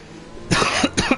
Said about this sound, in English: I thought I was going to sneeze, but in the end I coughed.